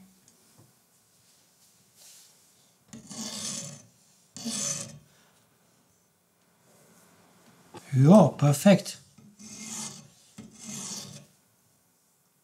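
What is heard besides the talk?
knife sharpening on diamond whetstone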